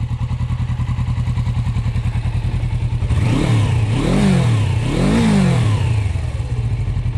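1982 Suzuki GS450T chain-drive motorcycle idles with a close, steady thrum, then the engine is revved hard three times in quick succession, each rise and fall sharp and loud.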